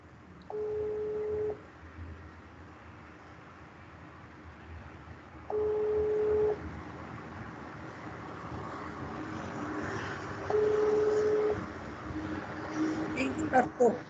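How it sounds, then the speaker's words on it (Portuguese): Three steady ringback tones repeat at regular intervals on a phone call, each about a second long with long gaps between them, over a faint background hiss. "Eu tô ligando para ele novamente."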